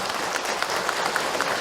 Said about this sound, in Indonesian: tepuk tangan buat Ayah Hilman